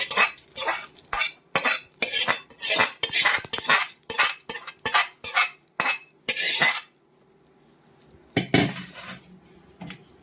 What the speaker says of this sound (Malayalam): ഈ വറവല് നമ്മുടെ കപ്പയുമായിട്ട് നന്നായിട്ട് യോജിപ്പിക്കണം